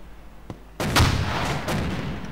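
A loud, close explosion goes off during a large-scale airsoft game at Tushino, bursting suddenly after a sharp earlier crack and rolling into a sustained, booming rumble that slowly fades.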